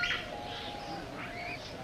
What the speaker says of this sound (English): Roy, you up there with those birds.